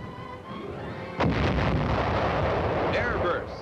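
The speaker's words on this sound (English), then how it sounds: "batteries fire outgoing rounds at enemy-held points in the wooded hills" Artillery batteries firing white phosphorus shells at enemy positions in wooded Korean hills in 1951, a heavy boom after a quiet start that then rumbles on with a continuous roar and crackle before fading.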